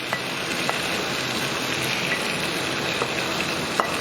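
Pre-cooked lamb sizzles in a hot pan for a lamb and potato balti, a steady, moderately loud frying hiss with faint stirring clicks, no voices.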